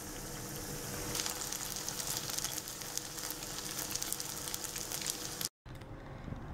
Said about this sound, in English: Now we'll fry the next batch of banana fritters.